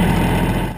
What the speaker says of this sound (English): then with his John Deere tractor and a livestock trailer